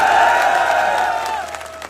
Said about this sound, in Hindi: मैं कहूंगा चांदपुर के लिए भी जोरदार तालियां होंगी